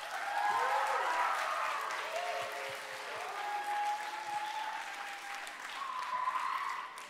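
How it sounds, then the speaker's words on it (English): Applause from a school graduation audience honoring the teachers at a K4 and K5 ceremony, steady clapping spread across the hall with tonal voices or whistles over it, fairly distant and moderate in level. "How about another big round of applause for their teachers?"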